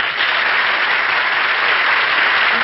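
A studio audience at a 1952 Jack Benny radio broadcast breaks into a steady wash of applause, a full, even roar of clapping that holds at the same level for a few seconds.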